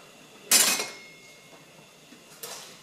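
A spoon stirs 16 ounces of frozen chopped spinach with water in a cooking pot, giving one short scraping clatter and a fainter knock a couple of seconds later.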